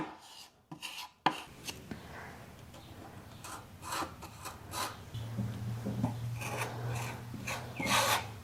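Sanding wood filler smooth on the drawers of an old barn-find dresser, a series of scratchy rubbing strokes in irregular bursts, close and moderately loud, with a low steady hum coming in partway through.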